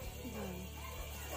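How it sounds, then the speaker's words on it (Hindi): Several village dogs bark and yip in the middle distance, their calls overlapping against a steady rural background murmur, with a faint voice audible underneath. "देखो इधर कितने कुत्ते भौंक रहे हैं"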